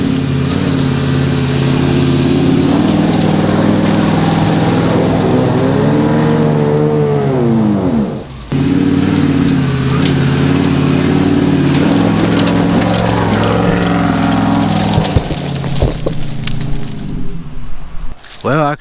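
A Jeep with a newly installed Hobart locker in its rear axle climbs in two-wheel drive. Its engine drones loud and steady, dips briefly midway, then revs and strains with clunks and cracks toward the end.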